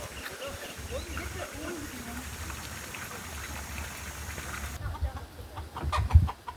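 Chickens cluck softly in a busy outdoor scene in Vietnam shared with monkeys, their calls scattered over a constant background hiss, with a few muffled knocks near the end.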